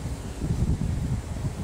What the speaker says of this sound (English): it's got a bit windy again today